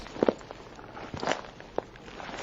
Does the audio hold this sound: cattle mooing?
no